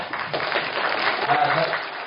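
Audience applause at a lecture on AI companion robots in a Korean high school: steady clapping that runs the full length, with voices faintly mixed in.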